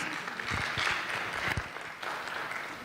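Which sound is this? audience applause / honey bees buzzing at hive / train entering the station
audience applause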